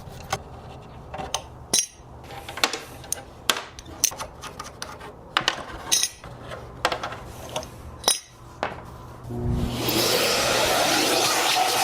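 Hardware being removed from a curbside cabinet during a furniture makeover: sharp metallic clicks and clinks of screws and hinges, irregular and close, ending in a louder steady hiss-like noise.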